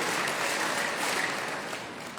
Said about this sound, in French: Applaudissez pour les mamans qui m'ont entendu.